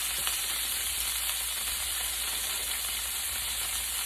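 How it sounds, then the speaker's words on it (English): Garlic sautéing in a pan gives a steady, even sizzle and hiss that runs unbroken and fairly close, with no talking. "We're gonna saute that out there."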